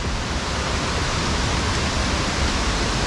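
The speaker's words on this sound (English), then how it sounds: "you can certainly hear the falls now" Elabana Falls in Lamington National Park roars steadily, a loud continuous broadband rush of heavy water pouring over the waterfall, close and unbroken with no voices.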